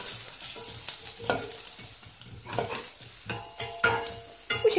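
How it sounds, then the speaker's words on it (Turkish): Carrots sautéing in a pan for a celery dish, a continuous frying hiss broken by bursts of stirring and utensil scrapes, close and moderately loud. "Birkaç dakikada havuçlarımı kavuracağım."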